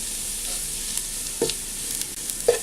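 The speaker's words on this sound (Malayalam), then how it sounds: "നന്നായിട്ട് ഫ്രൈ ചെയ്തെടുക്കുക" Onions fry in oil for a chicken dum biryani garnish, giving a steady close sizzle broken by a few sharp scraping stirs of the pan; no voices are heard.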